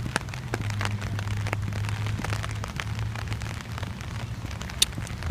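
Steady rain falling outdoors near a shopping area with stores, a dense even patter of drops with scattered sharper taps and a low hum underneath, continuous and fairly close, with no talking.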